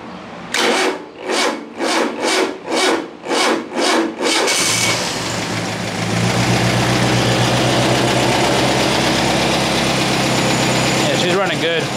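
Air-cooled Volkswagen engine with a Solex H30/31 PICT carburetor cranks in about seven rhythmic starter bursts, then catches and settles into a loud, steady idle close by.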